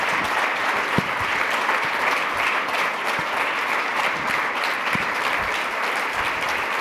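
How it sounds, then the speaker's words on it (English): A sustained round of warm applause from a conference audience welcoming speakers onto a supply chain security panel, dense steady clapping held at a loud, even level throughout. "please give them a warm round of applause."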